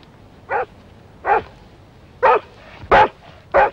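A dog barks five times at night in a village, at uneven intervals, each bark short and fairly close, with quiet pauses in between and no talking.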